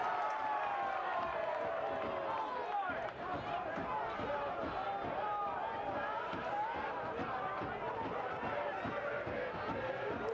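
Stadium crowd at a Detroit City FC versus Orange County SC soccer match, a continuous roar of many voices that swells and stays loud, with a commentator talking over it.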